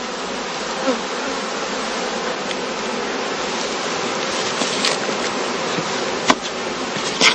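A dense, continuous buzzing drone of a swarm of honeybees fills the air at a heather skep apiary as they are ladled into boxes, loud and steady with a few closer individual buzzes.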